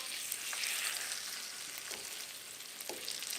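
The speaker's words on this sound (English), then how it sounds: "Oh yeah, you hear that sizzle." Steady, close sizzling and spitting of salmon frying in a hot pan, with occasional soft pops, continuing without pause.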